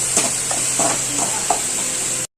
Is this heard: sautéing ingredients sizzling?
yes